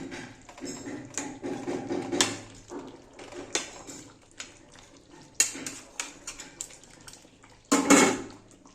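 Chicken curry with potatoes being stirred in a pot, a series of scraping clatters and metallic knocks from a spoon, with a louder burst of scraping near the end and no speech.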